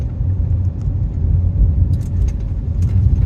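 Steady low road rumble from inside a Volkswagen Tiguan cruising along, with a steering wheel set slightly off-center so the car pulls right; engine and tire drone continuous and fairly loud throughout.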